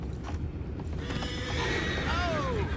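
A horse in the video game Red Dead Redemption 2 whinnies loudly over a steady low rumble, with a few hoof clops and clatter before the neigh.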